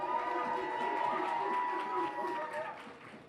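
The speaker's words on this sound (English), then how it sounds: "If you want Alex to win, please make some noise" A club audience at a freestyle rap battle cheers and shouts for a rapper, a sustained wall of crowd noise that eases off slightly near the end.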